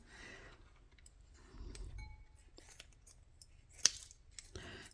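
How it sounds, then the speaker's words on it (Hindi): Scissors snipping through dried red chillies, a few sparse crisp cuts with one sharper snip, close and fairly quiet with no talk. "इनको थोड़ा कैंची से काट लेते हैं।"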